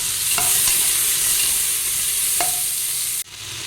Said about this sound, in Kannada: 2 ಟೊಮೆಟೊ ಕಟ್ ಮಾಡಿ ಇಟ್ಕೊಂಡಿದ್ದೇನೆ, ಅದನ್ನು ಹಾಕ್ತಿದ್ದೇನೆ. ಟೊಮೆಟೊ ಸ್ವಲ್ಪ ಫ್ರೈ ಮಾಡ್ಕೊಳ್ಬೇಕು.